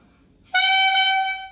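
A clarinet mouthpiece blown on its own gives a single sustained reedy squawk, bright and piercing, held steadily for about a second before tapering off.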